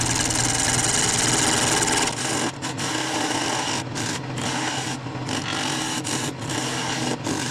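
A wood lathe turns a dovetail tenon on a bowl blank, giving a continuous raspy cutting roar with brief dips as the tool lifts off the spinning wood.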